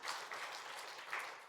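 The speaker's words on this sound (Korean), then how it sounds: "예빈이 반주 잘해라 박수 한번 해요." A church congregation at a Sunday worship service gives a short round of soft, distant applause: a faint, even wash of clapping heard alone.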